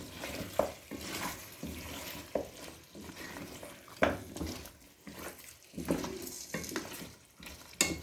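Meat and potatoes with spices for aloo gosht are fried and stirred in a pressure cooker, with a low sizzle under intermittent spoon scrapes and knocks against the pot at moderate volume.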